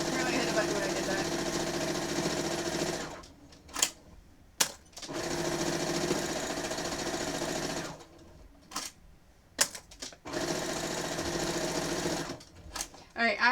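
Sewing machine stitching binding onto a quilt, running in steady loud bursts of a few seconds each, broken by short pauses with clicks and handling noises between runs.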